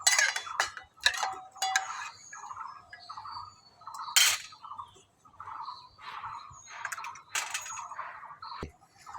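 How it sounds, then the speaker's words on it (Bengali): Mung dal lentils being washed in a pot, with intermittent clattering, scraping and splashing bursts at close range, loud then quieter, no talking. "এবার ডালটা আমি ধুয়ে দিয়ে দিচ্ছি।"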